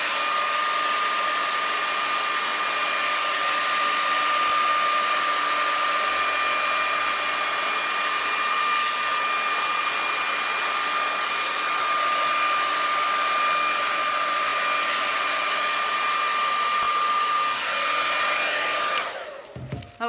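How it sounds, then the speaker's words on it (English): A hair dryer runs steadily and loudly close to the mic, drying an epoxy resin painting. It blows in an unbroken whine for about nineteen seconds and then switches off. "I'm just blow dry this one piece out."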